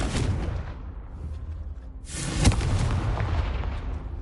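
A Confringo fire spell in Hogwarts Legacy bursts into booming explosions, a rumbling blast that fades, then a sharper, louder detonation that rolls on and keeps rumbling to the end.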